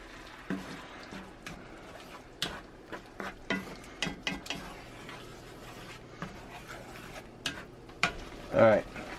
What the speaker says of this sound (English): Stir those mushrooms in.